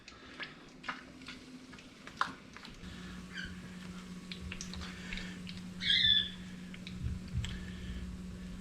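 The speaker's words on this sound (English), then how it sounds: "I apologize for the birds in the background." Birds call and chirp in the background of an outdoor kitchen where snakehead fish is being fried tempura-style, with scattered chirps and a louder burst near the middle over a steady low hum and light clatter.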